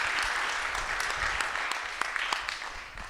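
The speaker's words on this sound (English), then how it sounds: "let's give up a round of applause to John and the crew" An audience at the Stellafane amateur telescope convention breaks into sustained applause, a dense wash of many hands clapping steadily, close and fairly loud throughout.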